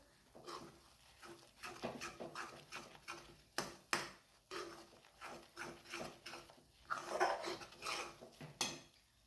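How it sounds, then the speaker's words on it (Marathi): A spoon scrapes and taps against a pan while mashed khoa is stirred over a low gas flame, giving an irregular series of close, soft clinks and scrapes with no speech. "याला छान फिरवून घ्यायचं स्लो गॅसवरती करायचा"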